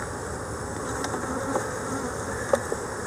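Honeybees drone steadily inside a hive, a close, continuous buzz with a few faint knocks and taps near the end.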